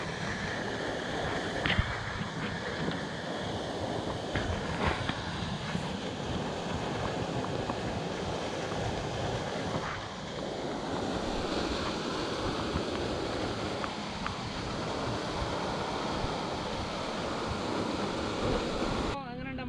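Waterfall on Amaradu hill, a continuous broad rushing roar of falling water that holds steady throughout, loud and close, mixed with gusts of wind buffeting the microphone.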